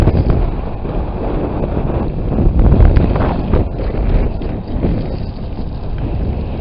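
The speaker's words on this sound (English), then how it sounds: "trying to shield you from the wind" Strong wind buffets the microphone on the seashore by the RNLI station at Eastney, a loud, continuous low roar with gusty surges throughout and no speech.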